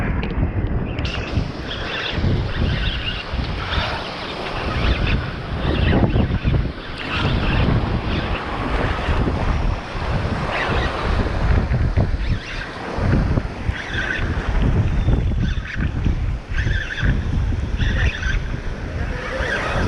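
Ocean waves and strong wind surround a small fishing boat at sea, a constant loud rush of gusts buffeting the microphone with sloshing water and surging waves throughout.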